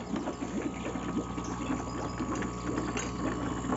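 Small electric air blower motor aerating a homemade fish tank setup built from a PET bottle and hose, giving a steady close mechanical hum with a faint rattling, bubbling texture throughout.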